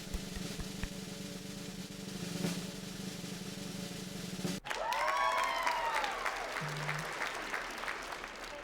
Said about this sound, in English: You better be clapping over there, by the way.